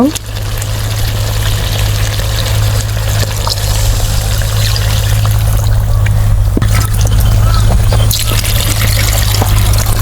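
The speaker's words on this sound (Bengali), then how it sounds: "হাঁসের মাংসটা সিদ্ধ হতে একটু সময় লাগবে এর জন্য আমি একটু বেশি পরিমাণে পানি দিব" Water pours steadily and loudly into duck curry cooking in a pot, a continuous splashing trickle with a low hum beneath it.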